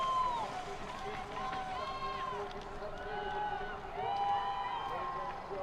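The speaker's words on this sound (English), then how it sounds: "you can hear the crowd revving up already" Spectators cheer and whistle along the course at a Beech Mountain, North Carolina downhill mountain bike race, a steady distant crowd roar with rising whoops.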